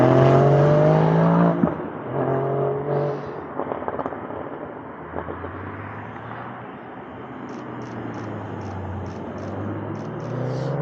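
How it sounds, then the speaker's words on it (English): Porsche driving on the Stelvio Pass mountain road, an engine revving up and then settling into a steady drone as the car moves along, with faint repeated beeps near the end. "Na végre egy Porsche."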